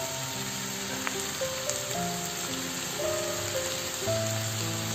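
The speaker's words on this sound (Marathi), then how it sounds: "यामध्ये गरम पाणी घालून घेत आहे." Hot water poured into eel fish masala that is still sizzling in the pan, producing a continuous crackling hiss with faint spattering and no voices.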